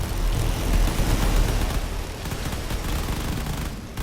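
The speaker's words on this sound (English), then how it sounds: "the carrier is just getting back up while it's getting fired out by all the cannons" Massed cannon fire pounding a carrier in a drone battle video game, a dense continuous rumbling barrage of overlapping blasts, loud and unbroken throughout.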